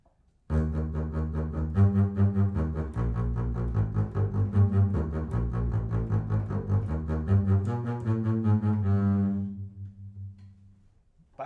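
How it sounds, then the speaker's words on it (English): Double bass plays a Mozart symphony bass line alone, steady repeated low bowed notes in an even pulse, close and moderately loud, with a brief silence at the start and the last note fading away. "if I were playing in an orchestra and we were playing a symphony by Mozart, you might hear a bass part that sounds like this"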